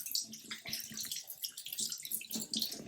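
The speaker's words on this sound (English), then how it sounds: "I'm going to scrub it pretty good, and I'm going to rinse it with lots of water" Running water pours steadily over freshly scrubbed skin to rinse off poison ivy oil, a continuous close splashing wash like a filling tub or tap, with no talk.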